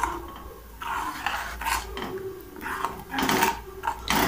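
Repeated scraping and clinking of a utensil against a metal pot, irregular strokes close by, with a faint low hum beneath.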